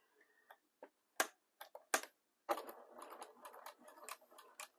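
A sewing machine stitches fabric in short, quiet bursts of rapid ticking, first sparse and scattered, then a steadier run of fast clicks near the end.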